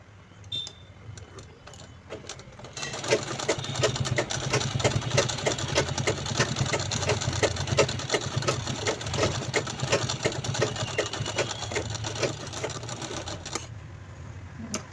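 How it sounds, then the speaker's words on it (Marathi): A sewing machine top-stitches a small handmade cloth purse, starting softly and then running in a steady, rapid mechanical chatter of close, even stitches for most of the stretch, with no talking. "आता त्याच्यावरती आपल्याला या साईडने देखील दाब स्टिच देऊन घ्यायची आहे."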